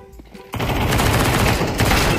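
Rapid gunfire from Counter-Strike 2 erupts after a half-second of quieter sound, a dense loud burst of shots sustained to the end, with faint voices underneath.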